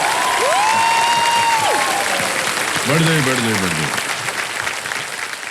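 A television quiz-show studio audience applauds steadily through the clip while a voice speaks over it.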